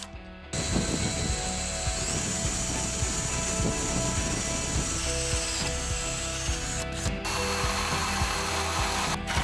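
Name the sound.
ratchet tightening bolts on a car's front suspension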